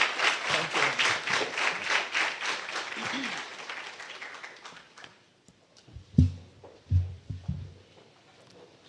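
A house audience at a national skills dialogue welcomes the minister with rhythmic, unison clapping that fades after about five seconds, followed by a few loud thumps and knocks.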